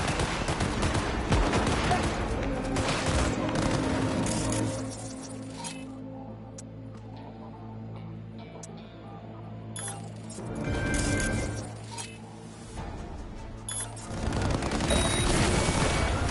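Exchange of gunfire in a video game, rapid bursts of shots and automatic fire with clinking debris, easing off midway before heavy shooting swells again toward the end.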